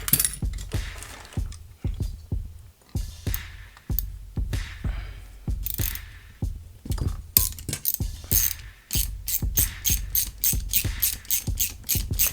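Ratchet wrench clicking repeatedly while a center nut is loosened from a WCRC buggy clutch, with bursts of fast, loud close-up ratcheting broken by short pauses and no talking.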